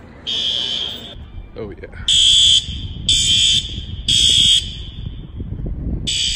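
A System Sensor SpectrAlert Advance fire alarm horn blares inside BYU's Joseph F. Smith Building during an evacuation, sounding loud repeated blasts in a regular on-off pattern over background crowd noise, with a brief voice between blasts.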